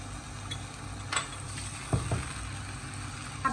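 Finely chopped onions and garlic, with tomatoes, fry in a pan for a bread pizza sauce, giving a faint steady sizzle broken by a few soft clicks and utensil taps.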